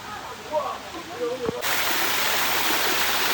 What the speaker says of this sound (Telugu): వాటర్ వాటర్ పడుతుంది వాటర్ ఫాల్ వాటర్ ఫాల్ ఇదంతా ఆర్టిఫిషియల్ వాటర్ ఫాల్ అనమాట